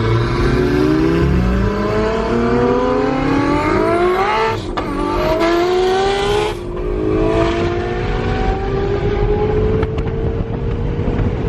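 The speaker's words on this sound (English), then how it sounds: "Ferrari V8." A Ferrari 488 GTB V8 on track revs hard through repeated rising pulls with brief breaks at gear changes, loud and steady throughout, with no talk.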